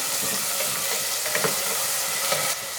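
Frozen green peas, soaked in water first, stirred in a hot pan for pressure-cooker peas pulao, producing a steady close sizzle with a few soft scraping stirs.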